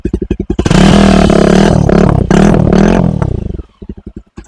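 A Jawa 42 Bobber motorcycle engine idles with a rapid thumping pulse, then revs up loudly and holds a roaring high rev before dropping back to a lumpy idle.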